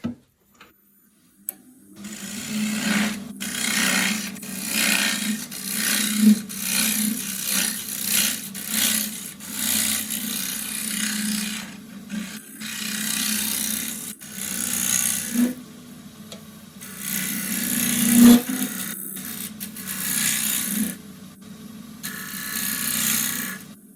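A turning tool cuts deeper into spinning wood on a lathe, giving a continuous close rasping, scraping hum with a low drone that swells and eases in uneven strokes throughout.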